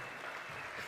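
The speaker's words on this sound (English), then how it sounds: "Big applause for Teresa, please." Steady audience applause fills a stage at an entrepreneurship summit in Valencia, dense continuous clapping from a crowd, loud and close, with no voices standing out.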